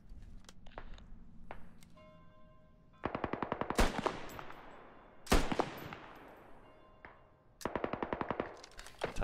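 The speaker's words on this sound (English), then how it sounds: "Oh, they're shooting at me." Gunfire in the video game Squad: bursts of rapid automatic fire and several sharp single shots, some near and loud, with footsteps and quieter distant shots between them.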